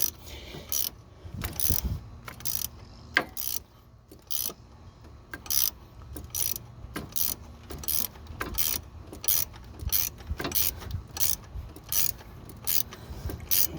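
A pulley is pressed onto a power steering pump with an installation tool on an F-body car, producing repeated ratcheting clicks in irregular bursts, close and fairly loud, with no talking.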